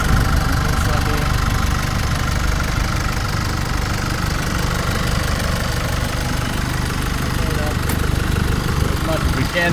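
The 2.8-litre four-cylinder diesel of a 2019 Holden Colorado LS-X Special Edition ute idles with a steady, slightly knocking rumble for about ten seconds. The engine is close and runs alone with no talk.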